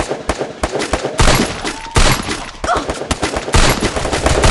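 Gunfire in the Free Fire mobile shooting game, a rapid series of loud close shots in short bursts with brief pauses between them.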